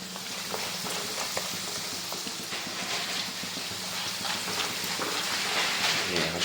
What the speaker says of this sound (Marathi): इथं चालू आहे तळणं